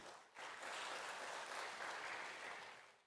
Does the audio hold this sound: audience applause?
yes